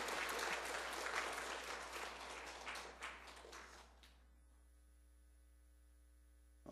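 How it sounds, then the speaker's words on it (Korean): Church congregation applauding new family members at a graduation ceremony during a worship service, a dense burst of clapping for about four seconds that stops abruptly, leaving a steady electrical hum. "다시 한번 크게 축하하면서 박수하겠습니다"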